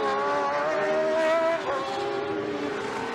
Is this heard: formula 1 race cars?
yes